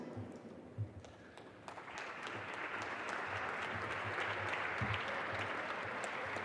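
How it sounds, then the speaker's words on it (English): Audience applause at a mentoring celebration event, a steady broad wash of many hands clapping that builds and holds for several seconds, with a few louder claps near the start. "another round of applause for our legends"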